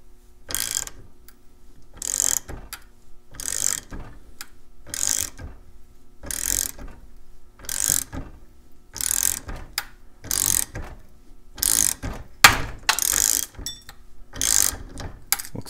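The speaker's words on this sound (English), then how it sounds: "So let's get the ratchet and tighten it down a little more." Ratchet wrench tightening a core puller on an American Series 700 padlock, giving a dozen or so short, sharp clicking bursts in an uneven rhythm, close and alone with no talk.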